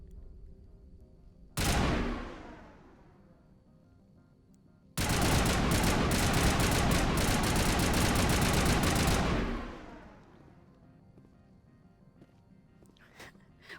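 Mass Effect gunfire comes as a short loud burst, then after a pause a long sustained stream of rapid shots lasting several seconds before cutting off into quiet.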